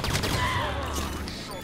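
Rapid gunfire in the Halo 5 campaign, a brief flurry of shots and whizzing projectiles over a rumbling battle background, loud and close, with some talking mixed in.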